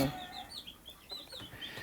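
Chickens cluck softly and intermittently nearby, a few short calls over a quiet background.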